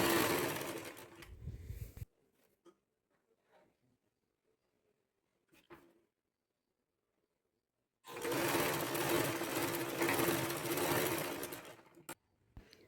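A sewing machine stitches a waistband onto a box pleat skirt, running in two loud, steady whirring bursts, close up, with a quiet pause between them.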